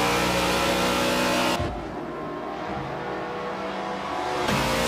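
A race car in Forza 7 at Homestead roars at high revs, drops sharply as it shifts or lifts, then holds a lower steady drone before climbing again, loud and close with no voices.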